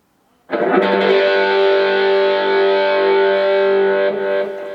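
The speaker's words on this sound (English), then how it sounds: "So you can hear the delay, you can hear that reverb a little bit" A sustained distorted electric guitar lead note from a Positive Grid Spark GO amplifier's lead channel rings out loudly for several seconds, with echoing delay and a reverb tail as it fades.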